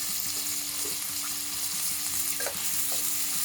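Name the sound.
tomato frying with onion and curry leaves for masoor dal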